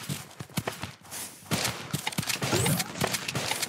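Gunfire from a zombie shooter video game crackles in rapid, dense bursts, loud and close, with sharp repeated shots through windows blending into a continuous noisy barrage.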